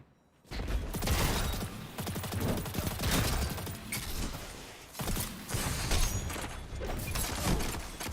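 Rapid, loud volleys of gunfire from an exotic scout rifle in the video game Destiny 2, two sustained bursts separated by a short pause, with mechanical clatter and no talking.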